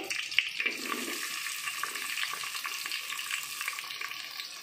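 Sliced onions, green chilli slits and dried red chillies fry in hot oil with tempering seeds for a masala brinjal dish, giving a steady, close crackling sizzle with a few brighter pops throughout.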